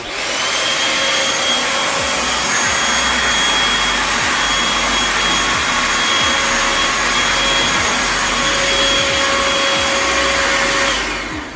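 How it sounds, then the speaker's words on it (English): A Bissell 2033M Featherweight stick vacuum runs in handheld mode with a loud, steady motor whine and airflow roar, held constant throughout and cutting off at the very end. "So to turn it on, you simply just press this."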